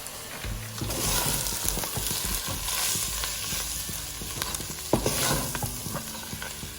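Coriander powder, cumin powder and mutton masala fry in a pan for mutton paya (goat leg soup), a steady close sizzle broken by the scraping and clatter of a spoon stirring throughout, with no talking.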